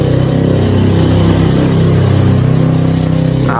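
A motorbike engine runs loud and close, a steady mid-pitched hum with a faint rev in the middle, with no voices over it.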